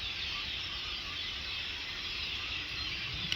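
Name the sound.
flock of birds calling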